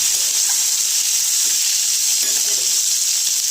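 Boiled eggs sizzling and frying in a pan of hot oil for a dal egg dish, a steady, loud broadband hiss running unbroken throughout with faint crackles and no talk.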